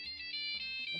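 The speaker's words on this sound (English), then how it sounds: "Why the fuck do I get a phone call?" A phone ringtone sounds for an incoming call, a bright repeating electronic melody with steady tonal pulses, close and clear with no talk over it.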